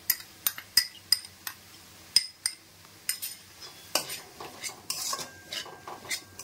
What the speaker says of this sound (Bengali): সবগুলোকে দিয়ে একটু নাড়াচাড়া করে নেব।